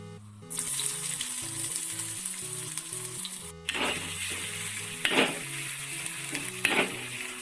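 Chopped small shallots sauté in oil for a curd curry, a bright, loud sizzle erupting after a short quiet start, with repeated scraping stirs and occasional clinks, heard up close over faint background music.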